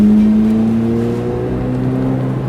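A Corvette Z06 on a race track pulls hard out of a corner, a loud, close, steady engine drone with strong low harmonics that shift slightly as revs build, a faint voice briefly beneath.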